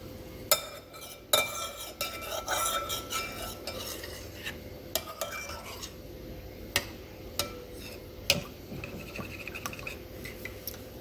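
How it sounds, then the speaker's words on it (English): A metal spoon stirs a yeast-and-water mixture in a bowl for low-carb yeast bread, making quiet scraping swirls broken by sharp clinks and taps against the sides at irregular intervals. "we want to make sure it's mixed up pretty good, that it's all absorbed into the water"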